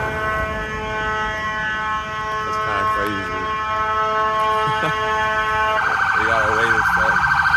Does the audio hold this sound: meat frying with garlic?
no